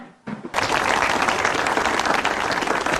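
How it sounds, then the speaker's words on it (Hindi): An audience bursts into loud, sustained applause after a brief quiet start, a dense, steady clatter of many hands clapping that continues to the end. "अभी तो मैंने बात बोली नहीं, आप पहले ही ताली बजा रहे हो"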